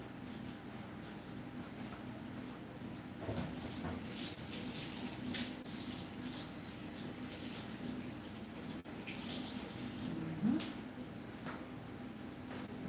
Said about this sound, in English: I'm going to rinse some fresh thyme.